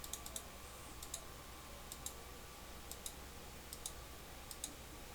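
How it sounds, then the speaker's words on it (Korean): Computer mouse clicks while working in Illustrator, a series of small, crisp, quiet taps, some in quick pairs like double-clicks, spaced irregularly over a low steady background hum with no talk. "다시 더블 클릭 따닥"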